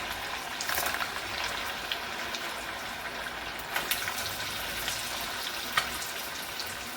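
Sabudana vadas fry in hot oil, a steady soft sizzle and crackle with occasional brief pops, close and moderately quiet, with no talking.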